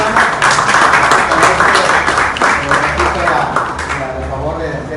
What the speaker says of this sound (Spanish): Fuerte el aplauso a nuestro hermano.